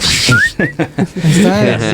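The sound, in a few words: person whistling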